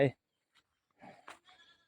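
A goat gives a short bleat up close, followed after a pause by a few quieter, brief bleats and murmurs in an otherwise quiet outdoor setting.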